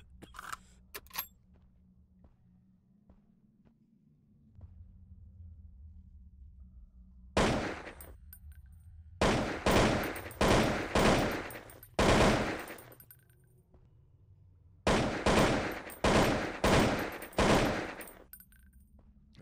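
AK rifle fire in the zombie shooter game Zompiercer: a few early isolated shots, then loud rapid bursts of automatic fire in several clusters, close and dominant over a low steady game hum.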